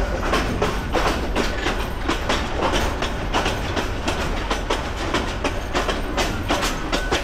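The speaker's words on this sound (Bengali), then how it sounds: "ট্রেন যে স্পিডে যাচ্ছে" A local train runs along a rural Bangladesh railway, heard loud and close from on board as a continuous rattling roar with rapid, irregular clickety-clack wheel beats throughout.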